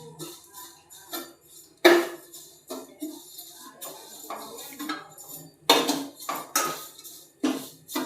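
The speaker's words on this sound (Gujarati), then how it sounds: "હવે આપણે સેવ ઘીમાં શેકી લેવું।" Vermicelli is roasted in ghee in a pan, with a metal spoon clinking and scraping against the pan in irregular sharp strikes and softer stirring between them, close and fairly quiet.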